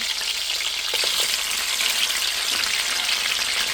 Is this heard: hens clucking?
no